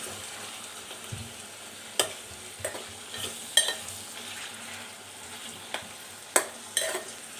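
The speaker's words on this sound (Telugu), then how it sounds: "మళ్ళీ ఒకసారి కలుపుకొని" Tomato and brinjal curry sizzles steadily in a pan while a spoon stirs it, with periodic scraping clinks against the metal close by and no talk.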